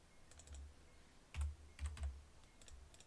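Clicks and taps during play of the bomb-defusal game Keep Talking and Nobody Explodes, sounding like keyboard keystrokes: scattered soft taps with a few firmer presses in a cluster, close and quiet.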